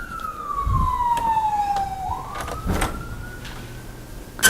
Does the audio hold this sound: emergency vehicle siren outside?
yes